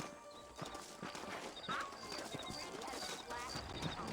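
Horse hooves clip-clop at a walking pace in the video game Red Dead Redemption, with a short whinny among the steps and faint game ambience around them.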